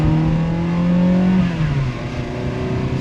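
A Ferrari 360 engine, with factory manifold and catalytic converters, revs with a deep, steady exhaust drone, pitch rising slightly then dropping as the throttle eases off.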